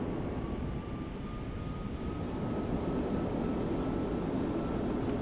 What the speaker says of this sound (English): I'll actually use some reverse thrust.